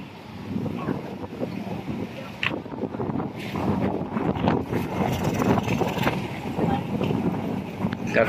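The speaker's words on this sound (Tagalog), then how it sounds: "Napakalakas pa ng hangin" Strong wind buffets the microphone in loud, gusty rumbles during net fishing for tilapia, with faint water and activity sounds underneath.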